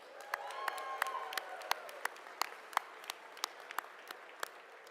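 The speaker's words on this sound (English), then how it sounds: "Please join me in giving them all a well-deserved round of applause." An audience at an inaugural ball applauds in a steady round of clapping, with sharp individual claps standing out near the microphone over the general patter of the crowd.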